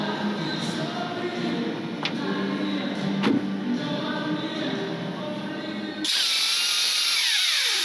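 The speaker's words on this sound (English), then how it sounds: "So we just drill through, put a riv nut in, put an M10 riv nut in." A power drill bores through metal for an M10 riv nut in a busy workshop, a steady whining grind with a couple of sharp knocks, then a brighter, higher buzz as the bit breaks through near the end.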